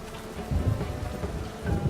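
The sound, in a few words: rain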